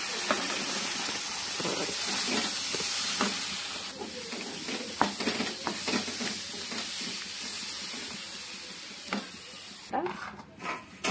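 Tamarind gravy simmering in a pan, sizzling softly while a spoon stirs it in repeated scraping strokes, with a sharper clatter near the end.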